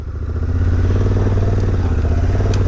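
Dirt motorcycle climbing a steep slope in Oregon backcountry, its engine droning loud and close with a steady low throb and rattling clatter, no voices over it.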